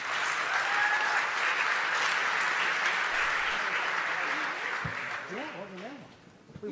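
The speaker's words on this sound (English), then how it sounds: "Big round of applause, please." Audience applause at a Cannes Lions panel, steady and sustained clapping from a crowd that fades toward the end as a voice starts talking over it.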